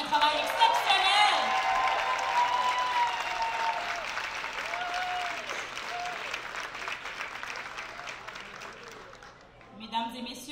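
An audience applauds performers at a stage show, strong clapping with some cheering that gradually fades while a voice speaks over it, then a brief new burst near the end.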